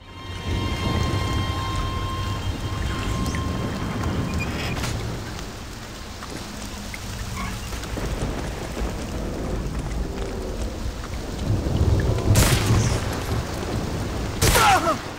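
Steady rain pours through the Sniper's Last Stand level of the video game Medal of Honor: Allied Assault, a dense wash of falling water with a few louder crashing bursts near the end.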